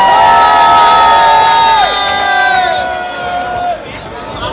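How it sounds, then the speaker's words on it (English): A loud crowd at a breakbeat awards event cheers and whoops with high shouted voices rising together, then gradually fading. "Make some noise for her."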